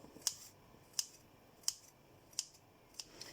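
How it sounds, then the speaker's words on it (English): Scissors snip along pastry in five crisp, evenly spaced cuts, each a sharp close click, quiet and isolated against a soft background. "with a pair of scissors, snip. Okay, so you snip all along"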